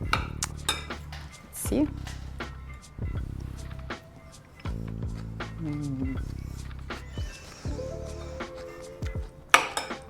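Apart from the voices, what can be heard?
mixing lentil salad in a bowl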